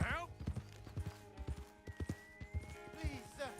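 Hooves of a horse in the video game Red Dead Redemption 2 clop steadily at moderate loudness, with voices talking over and between the footfalls.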